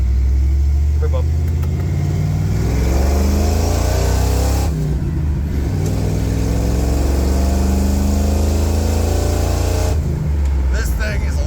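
A 1986 Ford Bronco with a 460 EFI V8 and a ZF5 swap, no interior, drives and accelerates. The loud engine revs rise and fall through repeated pulls, with short breaks between gear changes.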